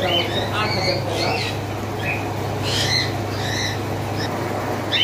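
A pair of albino cockatiels give repeated shrill, scratchy squawks close by over a constant low hum, with some chatter from other birds in the background.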